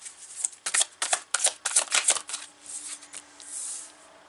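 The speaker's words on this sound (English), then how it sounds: "So I'm going to pull 3 cards to see what the energies of this week are going to represent." Tarot cards slide, flick and snap down in a quick run of crisp close-up rustles, then the handling eases into softer scraping as the spread is laid out.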